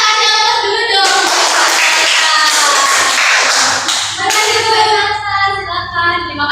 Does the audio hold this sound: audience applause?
yes